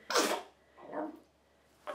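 A single sharp, close sneeze bursts out at the start, followed by a softer breathy sound and another brief vocal onset at the end, in a quiet indoor room.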